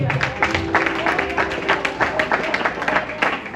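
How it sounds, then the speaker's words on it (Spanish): A congregation applauds during an evangelical church service, with a steady wash of many hands clapping close by and a voice and sustained tones running underneath. "Den un aplauso, Señor."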